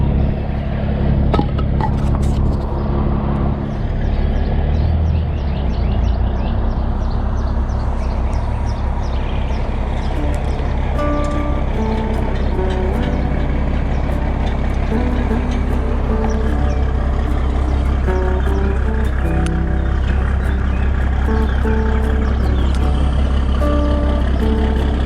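Steady loud engine and road rumble of a car driving around after a flat tire was repaired with Slime tire sealant, continuous and close with faint intermittent high clicks.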